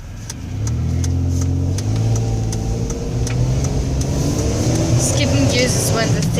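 A 2005 Ford Escape engine rises in pitch as the pedal is floored, a steady mid-range roar that climbs and shifts gears, heard from inside the cabin with ticking and rattles over it.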